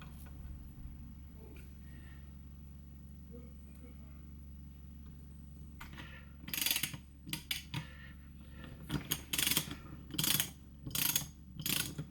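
Locking tuners being fitted to an electric guitar neck: a quiet stretch, then a run of sharp ratcheting clicks in short irregular bursts, close by, as a wrench turns the tuner nuts.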